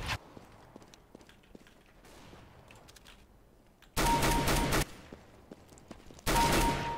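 Gunfire in Counter-Strike: Global Offensive: two loud, dense bursts of shots, one of about a second and a shorter one near the end, with quiet game ambience and light clicks in between.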